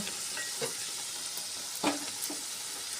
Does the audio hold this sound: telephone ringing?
no